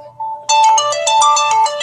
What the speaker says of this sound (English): Sorry, and that is my phone.